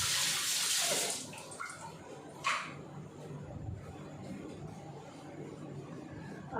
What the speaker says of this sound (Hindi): मैं हैंड वॉश करके आती हूँ